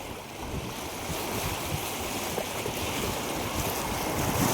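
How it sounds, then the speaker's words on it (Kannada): Loud, steady roar of the flooded Kaveri River rushing fast after rain, a dense broadband wash that swells slightly toward the end, with no voices. "ಎಷ್ಟು ರಭಸವಾಗಿ ನೀರು ಹೊಡಿತಾ ಇದೆ"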